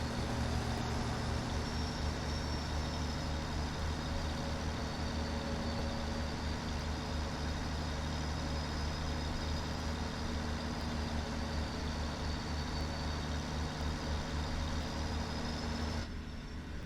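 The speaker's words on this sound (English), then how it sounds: "And it also has that wonderful old-timey diesel sound." A Mack R truck with an E6-275R diesel engine idles in American Truck Simulator. It gives a steady, low, rumbling drone with a faint whine on top, and it holds unchanged throughout with no other sounds.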